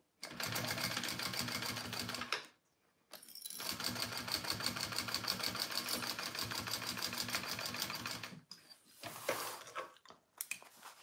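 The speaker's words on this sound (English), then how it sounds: "So now I'm sewing them all together." A sewing machine stitches layers of a Konin Bowler Bag together in several loud, rapid bursts, with brief pauses between runs and a few short stop-start stitches at the end.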